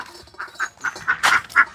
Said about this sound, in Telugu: ఇక మన బాతులు అయితే ఇప్పుడు మేతకి ఆ కైల్లోకి వెళ్తాయి, ఊటేస్తాయి.